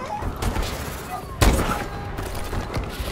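Bursts of gunfire in the video game Call of Duty: Advanced Warfare, with rapid shots and a sharp heavy blast midway, close and loud, mixed with a voice talking.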